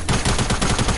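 Rapid automatic gunfire from a submachine gun in the Fortnite video game, a loud, fast burst of repeated shots filling the whole second with a steady rattling rhythm and no voices.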